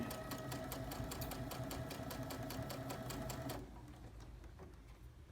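A sewing machine stitches up the face of a tailored sleeve placket in a fast, steady rhythmic whir of needle strokes, close and loud, then stops abruptly leaving quieter room tone.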